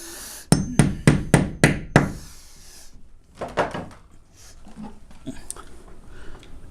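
A hammer taps a wall anchor into a wall: five quick, sharp knocks in a steady rhythm, close and fairly loud, followed after a pause by a few softer, scattered taps and light handling noise.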